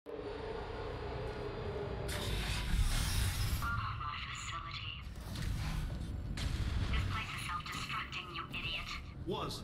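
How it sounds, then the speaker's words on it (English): A facility tremor in the video game Portal 2, a loud sustained rumbling shake with heavy low crashes and rattling bursts, while a voice talks over it. "Programmed in one last tremor for old time's sake."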